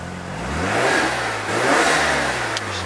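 Black Mazda RX-7 Series 8 rotary engine with a stainless exhaust revving close by, the pitch climbing, dipping and rising again in steady pulls over a continuous exhaust drone.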